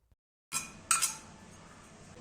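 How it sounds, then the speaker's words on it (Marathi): Chopped whole onion tipped into a pan for a traditional Maharashtrian urad dangar: two quick bursts of clinking and clattering from utensil and pan, followed by a low, steady hiss that carries on to the end. "चिरून घेतलेला संपूर्ण कांदा यामध्ये घालू"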